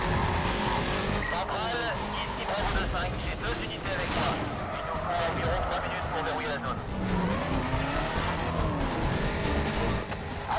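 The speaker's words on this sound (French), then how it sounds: "Même avec les pneus crevés, je gère." Race car in Need for Speed Carbon driving on flat tires, engine droning with skids and tire squeals, loud throughout, with someone talking over the game audio.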